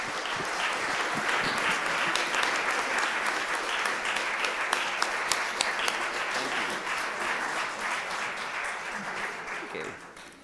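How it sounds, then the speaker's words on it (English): Audience applause at the close of a Sunday forum, a long steady ovation of many hands that gradually tapers off near the end, with faint voices mixed underneath. "could we have a round of applause for..."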